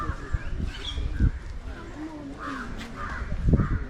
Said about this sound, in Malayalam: കാക്ക കാക്ക